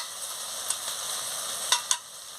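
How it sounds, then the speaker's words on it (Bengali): Cardamom, cinnamon, cloves and capsicum frying in a pan, steady soft sizzle with a few sharp scraping stirs, close but quiet. "এলাচ, দারচিনি আর লবঙ্গ একসঙ্গে দিয়ে দিচ্ছি, দিয়ে মশলাটাকে ভালো করে কষিয়ে নিচ্ছি"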